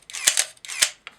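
A Minolta X-700 camera with its motor drive set to continuous low mode fires twice in quick succession, each frame a sharp mechanical shutter snap followed by a short whirring film advance, close and crisp, then a small click.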